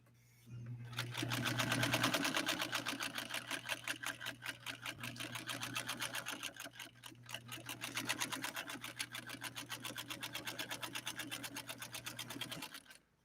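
A White Rotary sewing machine stitches leather, running as a steady, fast, even mechanical clatter from start to finish with a low hum beneath, fairly quiet and close, with no talking.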